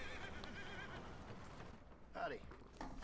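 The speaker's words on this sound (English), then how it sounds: "You're a good horse." A horse in the Red Dead Redemption 2 video game gives a clear whinny over soft hoof clip-clop and game ambience, heard at moderate distance.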